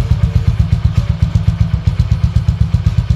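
A motorcycle engine with its stock exhaust pipe idles close by, a loud, steady, rapid putter of regular low thumps.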